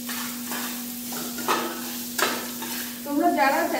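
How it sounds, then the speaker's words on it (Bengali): Mango pieces fry and are stirred in a pan for mango dal, giving a steady sizzle broken by scraping and stirring strokes about every half second to a second. "আমটাকে দিয়ে দেবো এর মধ্যে, দিয়ে একটু ভালো করে ভাজা ভাজা করবো"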